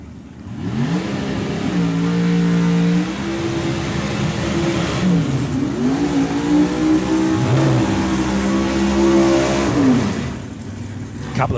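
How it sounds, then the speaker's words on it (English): Drag racing cars at Hidden Valley, Northern Territory, at sunset do burnouts, loud engines roaring and revving continuously with rising and falling pitch sweeps, one held high then dropping and surging again. "A couple of beautiful burnouts there."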